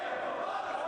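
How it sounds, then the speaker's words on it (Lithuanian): Arena crowd at a fight night chanting a fighter's name, a far-off, blended roar of voices with a faint rhythmic pulse, fairly quiet and steady. "Štai ką skanduoja į areną susirinkusi publika"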